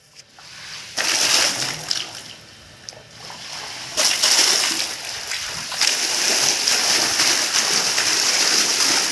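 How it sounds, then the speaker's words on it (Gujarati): Water from a solar-powered farm well pump gushes and splashes loudly and steadily, swelling in bursts as the flow strengthens, with no talk over it. "આપણું સ્ટાર્ટર અહીંયા રન થઈ ગયું અને આપણે અત્યારે પાણી આવશે અહીંથી"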